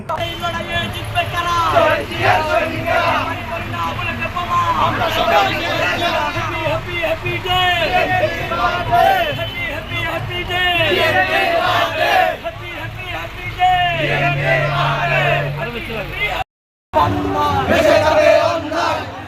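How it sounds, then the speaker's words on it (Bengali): A BNP anniversary rally procession in Lohagara, with a dense crowd chanting slogans in loud call-and-response, shouting voices layered continuously over the march and nearby traffic. "স্লোগানে মুখরিত হয় পুরা মিছিলটি"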